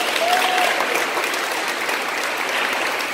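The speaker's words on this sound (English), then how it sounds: "Round of applause for the church." Loud, steady crowd applause at a Catholic youth rally, a thick wall of clapping from a large audience that stays full and even from start to end.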